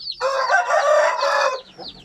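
A rooster crows loudly and close, one long full cock-a-doodle-doo lasting over a second, then fading into softer chatter.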